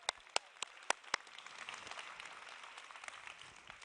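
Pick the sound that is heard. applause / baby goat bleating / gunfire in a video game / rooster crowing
applause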